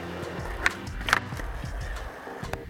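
Skateboard wheels rolling on pavement with a couple of sharp board pops and clacks as a hard flip is landed, close and fairly loud.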